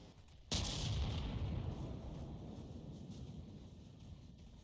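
Ship turret in From The Depths opening fire to shoot down incoming missiles: one sharp heavy blast, then a long rumbling, windy decay, with faint crackling shots continuing underneath.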